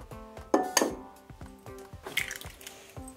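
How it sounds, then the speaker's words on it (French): Eggs being roughly mixed into a muffin batter in a bowl with a fork, giving a series of close, soft clinks and wet squishes with a few sharper taps against the bowl, heard alone with no talking. "tu le mélanges grossièrement avec une fourchette ou avec une cuillère"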